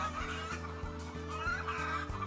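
Hens cluck in an enriched colony cage system, soft repeated clucks over a steady mechanical hum with rhythmic low thumps from the feeding equipment.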